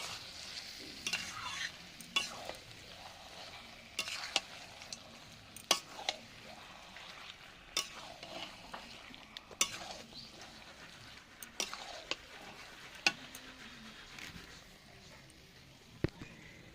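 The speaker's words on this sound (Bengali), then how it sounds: "মাংসটা দিয়ে এবার বেশ খানিকক্ষণ কষাবো" Goat mutton sautéed in a pan at length over a stove, a faint low sizzle under regular sharp clinks and scrapes of a spoon against metal every second or two, close but quiet.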